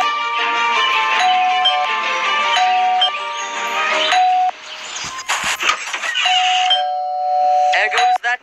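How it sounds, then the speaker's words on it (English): Doorbell chimes from the Scary Teacher 3D video game ring out as repeated two-tone ding-dong notes, loud and clear, with a pause and clattering game noises in the middle before the chime sounds again near the end. "There goes that stupid bell again."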